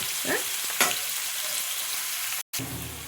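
Onions for potato kurma fry in a pan with a loud, continuous close sizzle and occasional stirring scrapes, broken by one very brief cut near the end.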